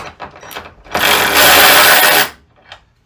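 Ryobi One+ 18V cordless ratchet running, a loud, close mechanical whirring buzz lasting just over a second, preceded and followed by quieter handling clicks.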